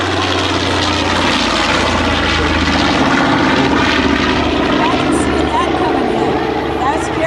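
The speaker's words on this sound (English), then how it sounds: "Those radial engines just sound like none other." The droning radial engines of a B-25 bomber rumble loudly overhead at an air show, a steady throbbing roar with a voice talking faintly underneath.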